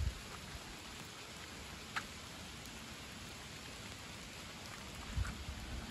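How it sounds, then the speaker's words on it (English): Steady rain falls outdoors at night, a dense, even hiss of drops on surfaces close by, holding level throughout with a couple of brief louder patters and no voices. "Just listen to the rain real quick"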